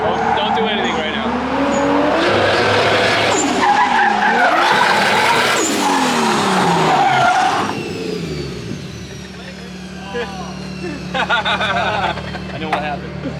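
A Nissan S13 with a 1JZ-GTE engine swap and poor alignment spins its tires, loud tire squeal and skidding over a revving engine that rises and falls for several seconds, with people talking nearby.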